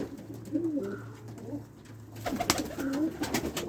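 Soft, low cooing from a dove, repeated in gentle throaty phrases close by over faint background noise.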